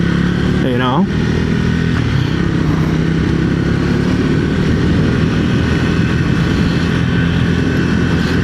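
A 2025 Triumph Speed 400 motorcycle rides along with a steady, loud engine drone and wind rush, while a rider talks over it throughout.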